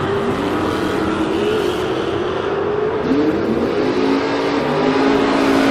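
A Mustang and a Maverick drag race car accelerate hard down the strip, one engine climbing through its gears with a loud, continuous, buzzing roar.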